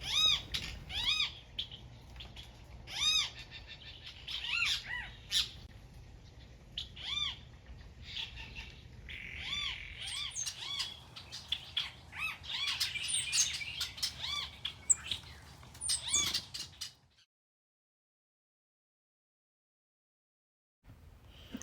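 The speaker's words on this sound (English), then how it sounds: "This is a long-billed thrasher." Long-billed thrasher calling in South Texas brush at Santa Ana refuge, a series of sharp, repeated whistled notes and chirps, fairly close and clear, with other birds mixed in before the sound cuts to silence near the end.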